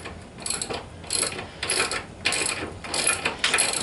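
Ratcheting clicks come in repeated bursts while bolts are tightened to mount a swivel bench vise, with several short runs of rapid metallic ticking separated by brief pauses, close and moderately loud with no talk.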